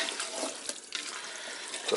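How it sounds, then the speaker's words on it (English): Cold water pours steadily from a container into a cooking pot of zucchini and summer squash, giving a close, continuous rushing splash with no talk over it. "I'll add another container, just cold water to it."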